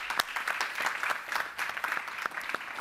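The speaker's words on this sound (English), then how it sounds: "Let's give a round of applause." Applause for a panel of documentary filmmakers, a smaller audience clapping with distinct individual claps and an uneven, fluttering rhythm at moderate volume throughout.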